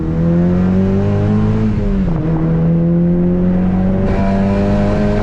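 A 2015 Honda Civic Si engine hums steadily with a rising, revving tone, dipping briefly midway before building again; loud, continuous, and close up.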